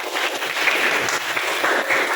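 A classroom of students clapping together, a busy, close burst of many hands at a steady loudness throughout the short stretch, with no voices over it.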